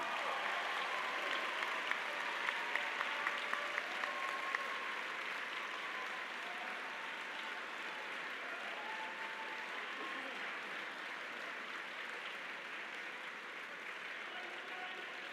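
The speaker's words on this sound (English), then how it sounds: "give your families a rousing cheer of gratitude" Law school graduates at a 2018 commencement cheering and applauding their families, a faint, distant, continuous crowd roar with clapping that holds steady throughout.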